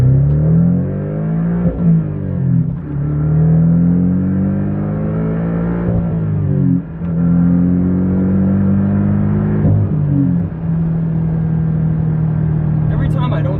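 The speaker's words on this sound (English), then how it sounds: "Every time I don't drive this car for a long time," A car accelerates on the road, the engine revving up through several gear changes with rising and falling pitch, loud and close from inside the cabin, with some talk at times.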